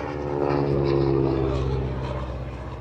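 A small propeller plane drones steadily nearby at the Sivrihisar air show, its engine hum holding a constant pitch throughout.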